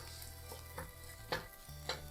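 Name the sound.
banana flower sautéing in a pan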